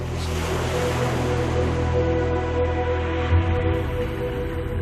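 Ocean swell and surf rolling onto a nearby coast at a shallow shipwreck dive site off Cape, a continuous rushing wash with a low rumbling swell and a brief surge near the end, with some wind.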